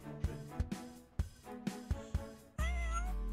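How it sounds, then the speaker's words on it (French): A cat meowing in a video game, several short repeated meows in an uneven rhythm, then a louder drawn-out wail at the end, close and clear with no talk. "Ce chat là il supporte pas l'eau."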